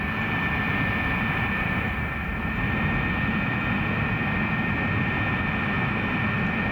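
A 1989 jet taxis and turns around on the runway, its engines producing a steady, loud, even roar with a constant high whine running through it and no voices.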